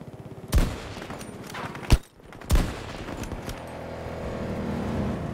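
Gunfire rings out in a Battlefield 2042 beta match: three sharp, loud shots spaced about a second apart over a low rumbling engine-like background.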